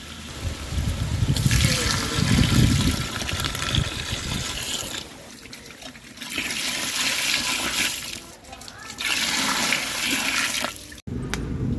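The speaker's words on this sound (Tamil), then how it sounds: "இப்போ நம்ம தண்ணி சேர்த்துக்கலாம்" Water gushes steadily from a pot or jug into a large batch of chicken masala for dum biryani, a loud rushing pour in long bursts with brief pauses between them.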